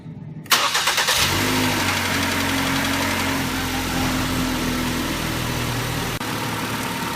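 The engine of a 2009-2012 Ford Explorer starts after a brief crank, then settles into a steady, close idle hum that runs unchanged to the end.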